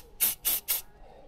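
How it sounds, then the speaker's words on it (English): Three short hissing bursts of aerosol spray, evenly spaced, bright and close, with quiet between them. "Maybe I should put a spray in here."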